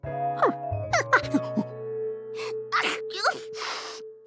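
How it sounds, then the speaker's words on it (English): A character sneezes several times in a Curious George cartoon, in short loud bursts mixed with tinkling music cues and voices speaking. "George gave up hope of hearing any mystery sound past that sneezing."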